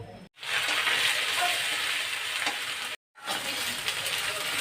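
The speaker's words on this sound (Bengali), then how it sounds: "নারকেলগুলো আমি লাল লাল করে বেজে নেব" Grated coconut fries in a pan with bay leaf and whole cumin for jackfruit seed dal, a steady close broadband sizzle broken by two brief silent cuts.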